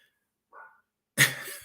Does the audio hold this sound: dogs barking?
yes